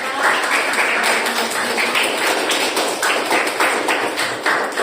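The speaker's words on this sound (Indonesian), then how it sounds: "kita beri tepuk tangan untuk kelompok 3" Students in an elementary school classroom applaud a presenting group with steady, brisk clapping. Dense, close hand claps fill the whole moment without a break.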